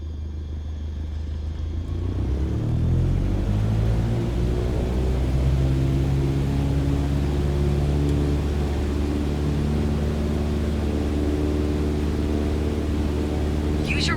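Simulated aircraft engine in Microsoft Flight Simulator 2020 running at full takeoff power, a loud steady drone with rising harmonic whine as the engine spools up and holds, continuous throughout.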